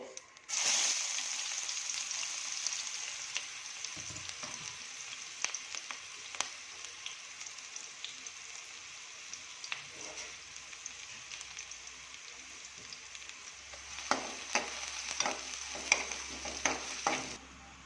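Chopped onions frying in a pan for egg rice, a steady close sizzle broken by scattered clicks and scrapes of stirring, with a low rumble joining near the end.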